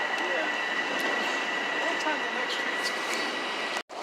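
Long Island Rail Road train at JFK heard as a steady, close rumbling roar with a faint high whine, continuous for about four seconds before a brief dropout.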